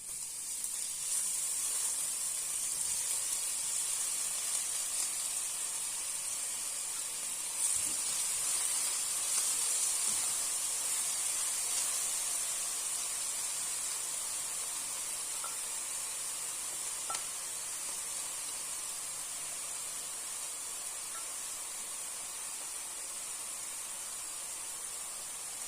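Chopped white and red onion frying in heated oil in a pan, a steady close sizzle and hiss that holds evenly throughout with no talking.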